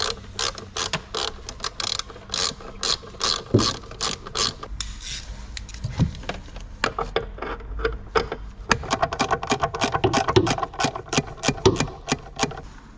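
Ratchet clicking as Torx 30 screws are backed out of the wiper linkage on a BMW X5, a fast run of sharp metallic clicks in bursts with short pauses, close and loud, with no talking.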